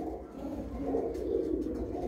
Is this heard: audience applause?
no